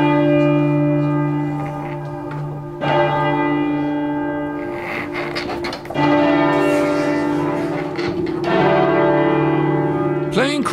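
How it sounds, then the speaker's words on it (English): Church bells in Cambridge ring together in chords, loud and sustained, with several struck tones layering and decaying over one another and fresh strikes renewing the ring throughout. "Playing chords on church bells is rare."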